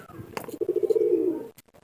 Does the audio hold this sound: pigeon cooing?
yes